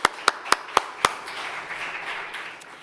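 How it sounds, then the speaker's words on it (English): A small gathering at a religious service offers a round of applause: five sharp, separate claps ring out near the start, then a soft, scattered patter of distant clapping trails off. "Could we give them a round of applause?"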